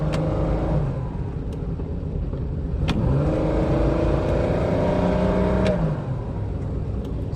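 A car in first gear during vehicle testing of a joystick-style shifter, its engine revving up with a rising hum, then settling and rising again, heard close and steady from inside.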